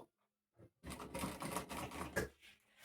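Sewing machine stitching a zipper onto a non-woven shopping bag: a brief tap, then about two seconds of steady, close, rattling machine run with no talk.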